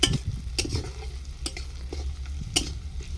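Onions frying in a pan for Yippee noodles, with a low steady sizzle broken by a few sharp scrapes and clinks of the spoon stirring, close and moderately loud.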